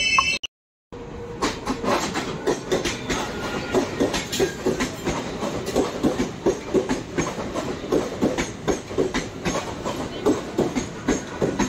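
Onboard a train heading toward Nagothane, the carriage rumbles with a steady rhythmic clickety-clack of wheels over rail joints, loud and continuous after a brief silent gap at the start.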